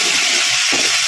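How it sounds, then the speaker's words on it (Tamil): Okra frying in oil in a home kitchen, a loud dense hiss that holds steady through the short stretch with low rumbles underneath. "நல்லா எண்ணெயிலேயே வந்து வெண்டைக்காய் நல்லா வதக்கிக்கலாம்"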